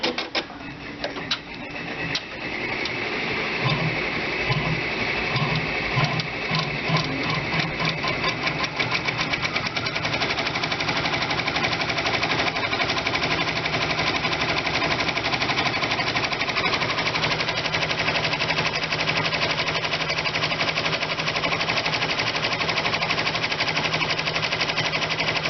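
An Enterprise 10-needle embroidery machine sews an applique satin stitch, a steady, close mechanical chatter of rapid needle strokes that keeps running alone and without pause.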